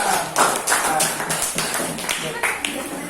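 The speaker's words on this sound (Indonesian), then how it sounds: "Ya, tepuk tangan." Scattered classroom clapping from elementary teacher-training students, uneven sharp claps at moderate volume with voices talking over them.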